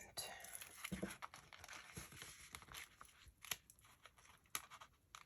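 Paper being cut with scissors, a few crisp snips and rustles close by, with faint paper handling between cuts and no talk.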